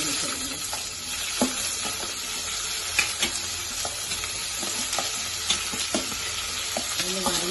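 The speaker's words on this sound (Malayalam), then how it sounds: "നമ്മൾ ഉള്ളിയാണ് ഇടുന്നത് സവാളയും ചെമ്മീനും" Onions, shallots and shrimp fry in a hot pan with a constant, loud sizzle, and a spoon scrapes and taps the pan now and then as the mixture is stirred.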